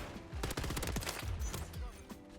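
A RAM 9 SMG firing in Call of Duty MW3 produces a rapid burst of automatic gunfire, a quick string of sharp shots at fairly low volume.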